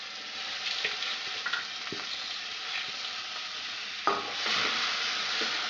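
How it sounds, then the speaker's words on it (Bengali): Onions fry in a wok of hot oil for a Bengali mutton curry, a steady close sizzle broken by scraping stirs and a louder burst of spitting near the end. "আমি এখন কড়াইয়ের মধ্যে পেঁয়াজটা দিলাম"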